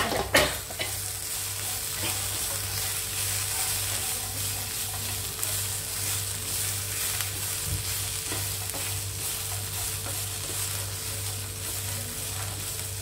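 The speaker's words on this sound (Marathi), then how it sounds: "हे आमचूर पावडर पूर्ण असं मिक्स करून घेऊ" Amchur powder being stirred into makhana chaat, a steady scraping mix with a faint sizzling hiss underneath, continuous and close for the whole stretch, with a low constant hum in the background.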